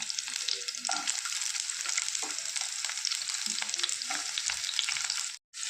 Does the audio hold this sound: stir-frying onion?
yes